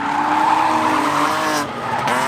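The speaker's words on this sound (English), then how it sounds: "Boom, cut to Paul drifting." A car drifts with loud, sustained tire squeal and engine roar close by, the screech wavering in pitch and dipping briefly before rising again.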